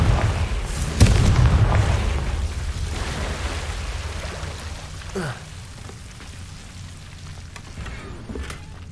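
Two Confringo blasting spells explode in Hogwarts Legacy: a loud booming burst that tails off slowly, then a second, softer blast about four seconds later.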